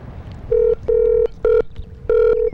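A telephone call ringing through on the line: a steady electronic tone pulsing in four clear bursts with short gaps, loud and alone over faint background hum.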